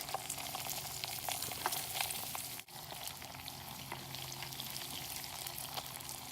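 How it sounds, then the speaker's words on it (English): Bacon and mushrooms fry in a pan outdoors in a forest, a steady close crackle with many small pops and spits, dipping once briefly before resuming. No voices are present. "So the bacon is still cooking. I'm going to go ahead and add some mushrooms."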